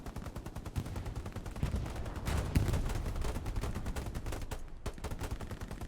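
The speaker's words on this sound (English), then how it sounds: "I got an MG to match your MG." Repeated machine-gun fire in the Hell Let Loose war game on the Purple Heart Lane map, sounding as rapid, steady bursts of gunfire that continue throughout without talk.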